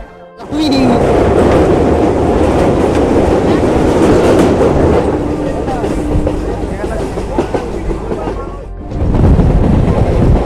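A passenger train moving past Kakdwip station on the line toward Namkhana, heard from onboard as a loud, steady rumble with rhythmic clatter and rattling carriages, continuing for about eight seconds before a brief dip and a renewed roar.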